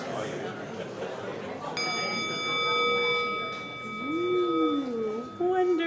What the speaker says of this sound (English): you guys started quieting down before I rung the bell